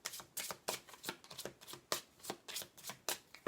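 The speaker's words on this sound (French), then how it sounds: "Je vais vous tirer quand même une carte de l'oracle de l'amour." Love oracle cards are shuffled by hand, a close series of crisp riffling flutters in a quick irregular rhythm, with no talking.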